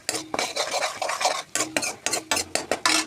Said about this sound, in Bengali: দিয়ে দেব জিরা গুঁড়ো, দিয়ে আস্তে আস্তে নাড়তে রাখবো